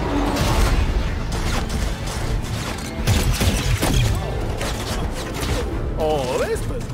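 Gunshots and crashing mechanical clatter during a Fortnite live event, loud bursts and impacts layered with scattered voices and a rising synthetic whine near the end.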